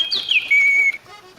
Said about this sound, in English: You can order a singing bird automaton like mine from